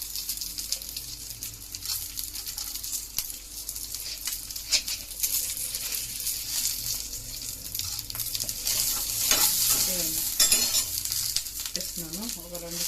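Coriander seeds and black pepper roasting in a pan for chicken masala curry, a constant dry sizzle with scattered crackles and some stirring scrapes, growing louder toward the end and close up.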